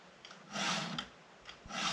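A file rasps against a chainsaw chain to sharpen it, giving two or three short scraping strokes close up, with brief pauses between them.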